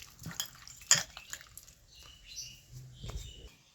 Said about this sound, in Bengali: আপনারা দেখেন আমি আমটা ছোট্ট ছোট্ট করে কাটছি